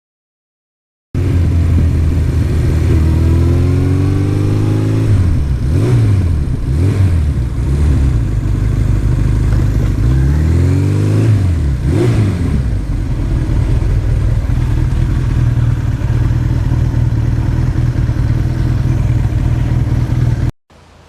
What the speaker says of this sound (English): So Joe's bike ran great on this little shakedown run.